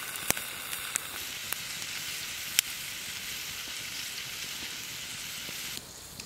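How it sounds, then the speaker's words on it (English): A steak sizzles in a pan beside a campfire in the New Zealand bush. The hiss is steady and fairly loud, with a few sharp pops and crackles early on, and the sizzle drops off near the end. "I'm gonna throw the old steak in."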